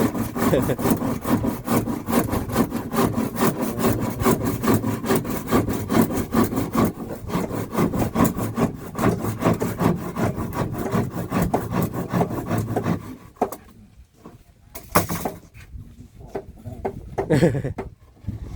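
A hand saw rasps back and forth through wood in fast, steady strokes, loud and close, then slows to a few separate strokes near the end.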